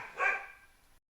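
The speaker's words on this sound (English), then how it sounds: "Gotta wait for Sophia to stop barking." A dog named Sophia gives a single close, loud bark that tapers into a brief trailing whine, heard alone indoors with no talking.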